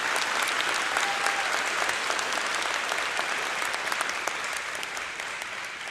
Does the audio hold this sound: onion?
no